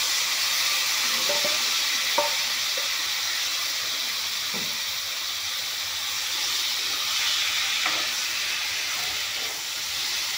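Boiled taro frying in a pan gives a steady, close hissing sizzle with occasional soft stirring clicks and pops.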